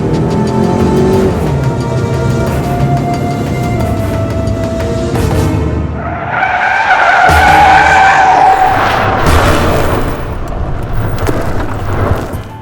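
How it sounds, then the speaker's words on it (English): Car losing control and skidding in a driving simulation without ESP, with a loud engine drone followed by a long, wavering screech of squealing tyres, close and prominent, with no voices. "You lose control of your vehicle and it goes into a skid."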